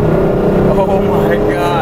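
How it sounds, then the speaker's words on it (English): Porsche 964 Carrera 2 from 1991, heavily modified with coilovers and a lightweight flywheel, downshifting: a loud, steady engine drone with shifting harmonics that rise near the end, with a voice speaking over it. "Lightweight flywheel. So I'm gonna downshift."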